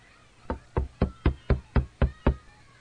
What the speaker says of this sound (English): The insistent knocking was repeated louder than before.